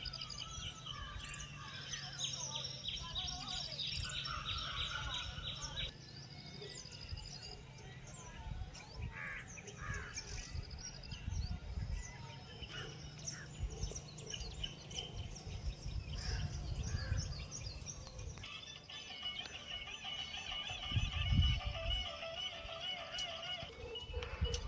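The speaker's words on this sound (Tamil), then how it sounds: "பறவைங்க சத்தம் கேட்டே எப்படி இருக்குன்னு" Birds call and sing through a Western Ghats forest, with harsh crow caws and assorted chirps and whistles layered over a low, steady background rumble that swells briefly near the end.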